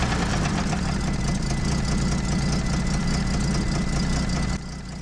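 A 1968 Toyota Land Cruiser FJ40 engine runs steadily at idle nearby, with a dense low rumble and a regular fast ticking pulse, choked by a wire and with exhaust manifold leaks; the level dips slightly near the end.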